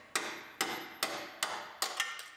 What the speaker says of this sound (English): And hammer a few of them out of there.